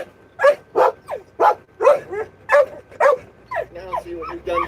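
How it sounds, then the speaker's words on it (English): A dog barks in a steady series of close, loud yaps and then shifts into whiny whimpers, with no talk over it. "Freaky dog."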